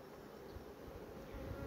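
Honey bees on a hive frame give off a steady, close, continuous buzzing hum that stays even throughout, with no talking.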